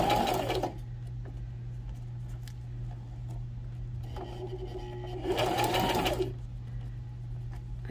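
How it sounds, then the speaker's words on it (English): A sewing machine stitches pleated trim onto a napkin, running in two short bursts at the start and again in the middle, close and fairly loud over a steady low hum, with quiet pauses between. "And I'm going to start to sew."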